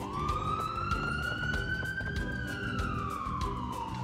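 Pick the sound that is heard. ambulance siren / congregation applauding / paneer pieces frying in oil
ambulance siren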